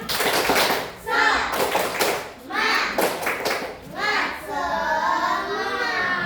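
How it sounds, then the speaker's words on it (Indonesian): Schoolchildren in an Indonesian classroom doing a rhythmic spirit clap, a patterned series of clap bursts mixed with children chanting and shouting together, loud and close, rising and falling in waves. "Coba sekarang tepuk semangat."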